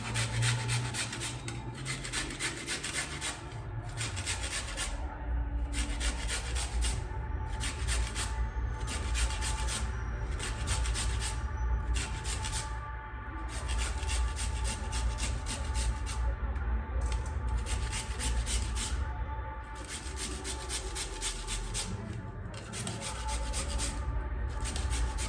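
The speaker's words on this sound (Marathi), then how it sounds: "माझ्याकडे मोठी किसणी नाहीये त्याच्यामुळे मी आता ह्या छोट्या किसणीवरच किसणार आहे" Carrots grated by hand on a small kitchen grater, a continuous quick rasping scrape with short regular strokes and brief pauses, close and fairly quiet, no voices.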